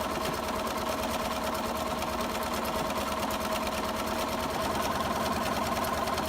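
A sewing machine runs continuously while stitching decorative outside edging on a hosta quilt block, a steady, fast mechanical hum with rhythmic needle chatter, near and alone without speech.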